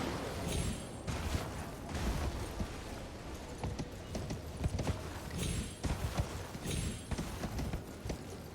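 In the video game Elden Ring, a horse's hooves clip-clop in a quick, steady gallop, loud and close, with no talking.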